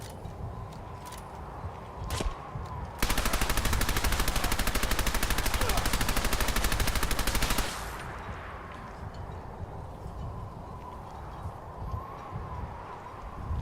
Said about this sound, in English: Why must you shoot me, brother?